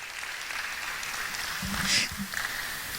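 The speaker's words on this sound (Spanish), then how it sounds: "Dale un fuerte aplauso al Señor" Brief, soft applause from a church congregation honoring the Lord, a muffled wash of clapping with a slight swell partway through under a low background murmur.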